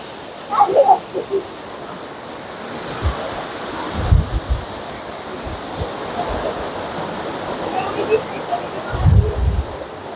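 A monsoon-swollen waterfall pours down through a pine forest, a steady broadband rush of falling water with occasional louder low thumps and gusty bursts, close and constant.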